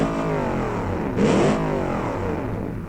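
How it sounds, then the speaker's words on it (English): A big-engined custom car in BeamNG revs up, a loud rising and falling engine roar that swells sharply for a moment in the middle before settling back to a steady drone. "That's a good sounding engine."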